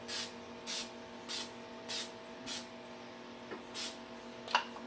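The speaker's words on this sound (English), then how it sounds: "I'm going to spray a little bit of oil on the okra." Short hissing bursts from an oil spray can misting okra before air frying, about six to seven quick even puffs at close range against a quiet kitchen hum.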